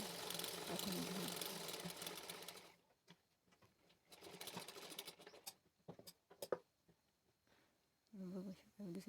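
Sewing machine stitching lace onto the border of a blouse, a loud whirring run at the start, then short bursts of stitching among quiet handling, with a final run near the end.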